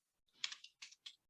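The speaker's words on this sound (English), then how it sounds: "I just type in 50 million." A few quick keystrokes on a computer keyboard entering a budget figure into cost management software, five light clicks in a short burst, close but quiet, with no talking.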